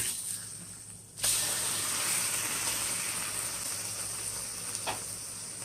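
A frozen Jennie O turkey cheese bacon burger sizzles on the fire, a steady close hiss that jumps louder after a second and holds, with a faint crackle near the end.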